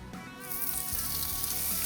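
Steak sizzles on an oiled grill grate, a loud, close, continuous crackling hiss that swells as the meat hits the hot metal.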